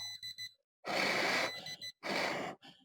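A smoke detector alarm sounding in a room, heard as two loud, sustained bursts of harsh tone with short gaps between them and weaker beeping at the start.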